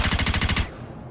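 Gunshots from a single-fire weapon in the game Star Citizen crack out as a fast, even string of about nine loud close shots, then stop abruptly into quiet.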